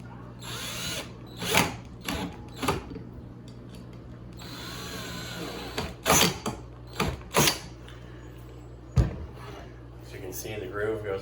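A power drill drives screws into a wood panel while a nightstand is assembled, giving several short whirring bursts with creaks and pauses between them and brief handling knocks.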